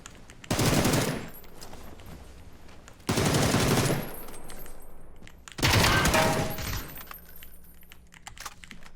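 Three loud bursts of sustained automatic gunfire from the battle-royale video game PUBG, each lasting about two seconds and separated by short pauses, with no talk over them.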